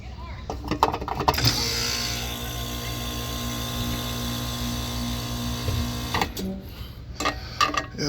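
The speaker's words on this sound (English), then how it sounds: "I'm gonna see if we can at least get this compressor started" York heat pump A/C compressor motor straining to start, a steady loud hum lasting several seconds between clunks and rattling, then cutting off abruptly.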